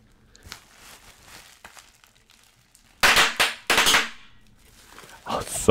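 Bubble wrap squeezed in the hands, a few sharp close pops and crackling bursts in quick clusters after quiet soft handling and crinkling, intimate and up close.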